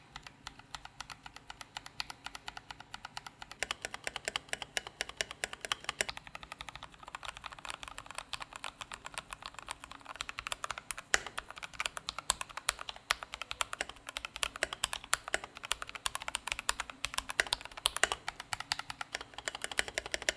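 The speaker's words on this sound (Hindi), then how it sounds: "तो सबसे पहले थॉकियर कीबोर्ड का आज कंपैरिजन हो रहा है तो साउंड सुनना जरूरी है।" Rapid, continuous clacking of a thocky mechanical keyboard being typed on, dense keystrokes at a steady fast pace with no voices.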